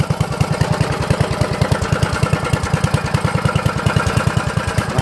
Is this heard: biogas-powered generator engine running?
yes